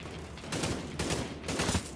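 Bursts of rapid gunfire from The Division 2, played on PC, arrive in three dense volleys roughly half a second apart, loud and close, with a steady backdrop of game ambience between them.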